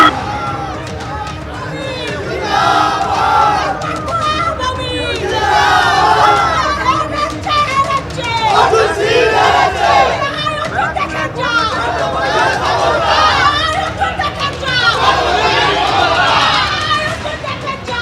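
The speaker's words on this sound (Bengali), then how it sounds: "আমি দেখতে পাচ্ছি এখনো স্লোগান পাল্টা স্লোগান চলছে" A large crowd outside the Barrackpore vote counting centre chants slogans and counter-slogans, a continuous loud mass of shouting voices rising and falling in waves.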